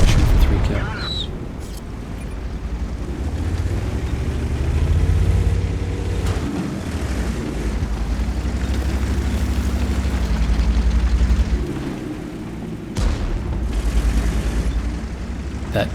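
Tank cannon fire in a tank video game, shots striking an enemy tank's track: deep booming blasts with rumbling engine noise throughout and a sharp impact near the end.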